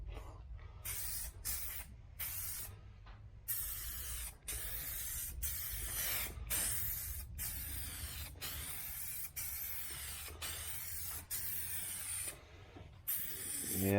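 An aerosol can sprays vinyl paint onto the interior of an El Camino in a series of close hissing bursts. They are separated by short gaps and a faint rattle, over a low background rumble.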